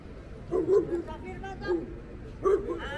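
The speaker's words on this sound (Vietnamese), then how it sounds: "Họ mang theo cả một chú chó nữa." Dog on a street in Bogotá, near a group of homeless people, giving short bark-like yips in three bursts over a steady, noisy city background, with voices also heard.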